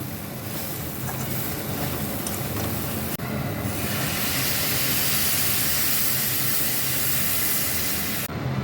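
Water is poured into a pan of curry, bursting into a loud, steady hiss and bubbling simmer that runs close and continuous.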